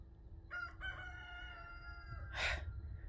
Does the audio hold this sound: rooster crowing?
yes